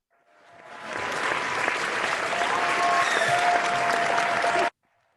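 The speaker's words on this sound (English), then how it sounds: "we found some applause sound effects to make it feel more realistic" A crowd applauds: dense clapping swells up over the first second, holds steady and loud, then stops abruptly.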